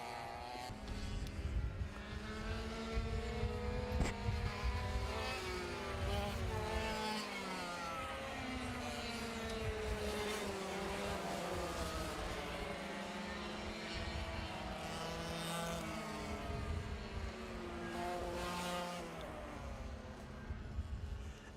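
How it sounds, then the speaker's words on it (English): Racing karts, including faster gearbox karts, circle a track at a kart racing club. Several high-pitched engines whine and rise and fall as they pass at middle distance in a continuous overlapping drone. "Maybe some of the Legends karts, some of the faster gearbox karts going out."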